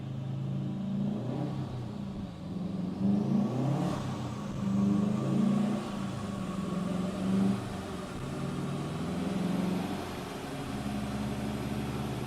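A 2010 Subaru STI engine revving from inside the car, several rising and falling rev swells over a steady droning rumble, rev matching between gears, close and continuous with no talking.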